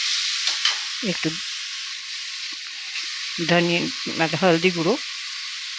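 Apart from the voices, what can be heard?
frying chili, coriander and cumin powders for ghugni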